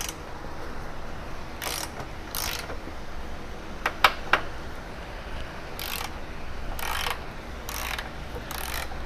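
A hand ratchet clicks in several short bursts while breaking loose the 19mm compliance bushing bolts on a 10th-generation Honda Civic, with a couple of sharper cracks mid-way as the bolts give, close up and without talk.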